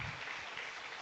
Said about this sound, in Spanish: ¿No crees que es digno de recibir un aplauso el Señor?